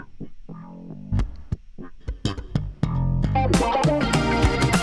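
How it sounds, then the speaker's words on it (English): Electric bass plays a melodic line with a sweeping, vowel-like wah filter and some reverb, growing denser and brighter toward the end. "there's a bit of reverb on it, and this slide wah sound."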